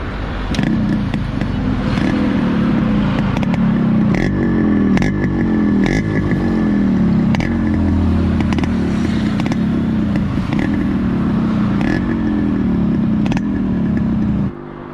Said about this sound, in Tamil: இப்போ நான் வந்து இன்ஜினை ஸ்டார்ட் பண்ணி உங்களுக்கு அதோடய சவுண்ட் எஃபெக்ட் காட்டுறேன்.